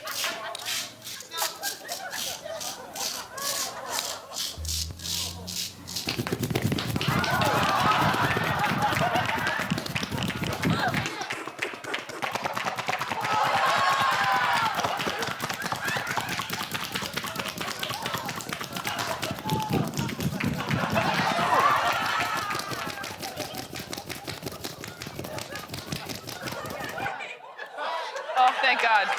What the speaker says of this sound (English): it was actually a man's chest being shaved